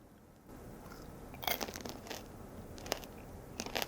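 Crunchy bites into tanghulu, candied fruit with a glassy hard sugar coating, give a few crisp cracking crunches at close range against a quiet background, followed by soft chewing.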